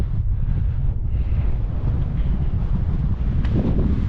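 Strong, cold wind on the summit of Bolshoy Tkhach mountain buffets the microphone in a steady low roar, gusting throughout with no voices.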